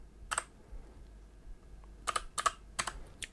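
A file name typed on a computer keyboard in a quiet room: a single key tap, a pause, then a quick cluster of crisp clicks close to the microphone.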